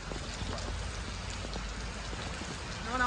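Steady, faint rain patters continuously throughout, with no talking.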